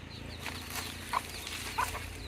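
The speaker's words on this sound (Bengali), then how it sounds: "এগুলা ইউনিক একটা মুরগি, এটা আর একটা জাত আর কি" A hen of an unusual breed stands with her six chicks. Two brief, high peeps sound faintly over a soft, steady background hum.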